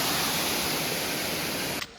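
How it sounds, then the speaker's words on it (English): A waterfall on a river in Vale do Pati, Chapada Diamantina, Brazil, rushes in a steady, loud roar of falling water heard near, then cuts off abruptly at the end. "Another waterfall."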